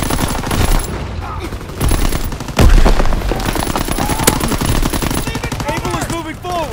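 Sustained machine gun fire in a World War II shooter game, fast rhythmic bursts close and loud with heavy thuds mixed in, while a voice speaks over the din.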